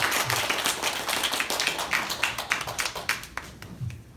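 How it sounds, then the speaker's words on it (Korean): A room full of people applauds at a high school Sunday church service, a dense patter of clapping that gradually thins and fades toward the end. "마지막 축복의 박수로 한번."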